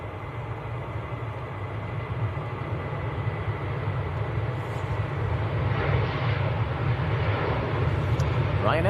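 Ryanair airliner heading to Alicante at Manchester Airport, a steady low engine rumble that grows gradually louder, faint voice-like sounds audible in the background.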